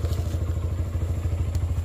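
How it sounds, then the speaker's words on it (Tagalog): A motorcycle engine running nearby, a steady fast low thumping pulse with some clatter, fairly loud and without speech. "hatod pa rin ang motor ni kuya"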